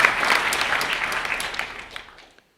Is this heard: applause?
yes